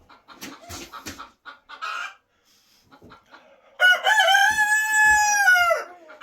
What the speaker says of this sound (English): And he has a good cock-a-doodle-doo.